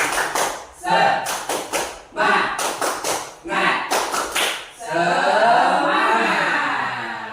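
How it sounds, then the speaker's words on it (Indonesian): A group of people performs a rhythmic clapping chant at an indoor gathering, with bursts of rapid hand claps in sets and voices chanting along, ending in a sustained cheer, all close and loud. "ayo kita tepuk semangat, ayo tepuk semangat."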